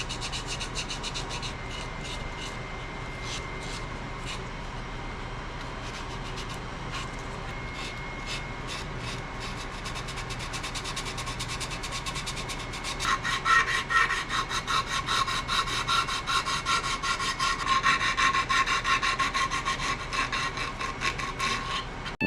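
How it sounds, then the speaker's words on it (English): A spalted wood turning is sanded on the lathe with a steady, rapid, rasping hiss that runs throughout and grows a little louder and harsher partway through, with no voices. "Now, boatloads of sanding, which is everybody's favorite."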